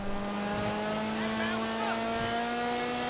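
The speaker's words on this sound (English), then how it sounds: "it sounds absolutely amazing. That's because this is a Mazda RX7" Mazda RX7 in GTA 5, its engine droning loudly and steadily with sustained whining tones and faint squeals layered on top, continuous for the whole stretch.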